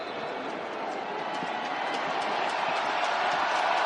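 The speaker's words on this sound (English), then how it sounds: "Crowd trying to get loud." Football stadium crowd at an NFL game between the Tennessee Titans and Las Vegas Raiders, a steady dense roar of many voices building slightly louder, continuous throughout with no single voice standing out.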